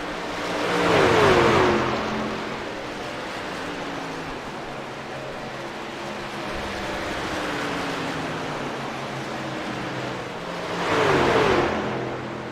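Racing truck engines roar on an oval during an SRU Truck Series race, a steady drone of passing trucks that swells loudly twice as the pack sweeps by, with no talk over it.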